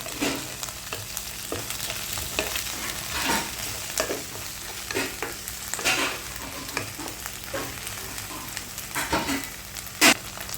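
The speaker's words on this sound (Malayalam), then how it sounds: "ഇഞ്ചി പേസ്റ്റ് നന്നായി ഒന്ന് വഴറ്റി കൊടുക്കാം" Ginger and garlic paste sautéing in a pan for a chicken chilli curry, a steady close sizzle with scattered scraping stir strokes and a sharper clack near the end, no talking.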